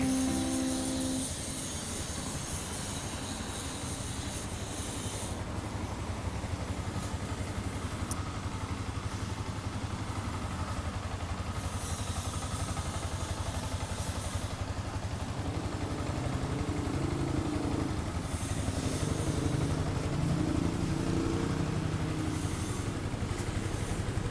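A 2016 Yamaha YZF R15 motorcycle engine idles steadily and close by, a constant low hum with light mechanical clatter that holds unchanged for the whole stretch.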